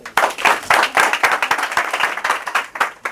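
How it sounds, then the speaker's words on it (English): A small audience claps for a few seconds, a scattered, uneven patter of hands with no cheering. "give him a big round of applause"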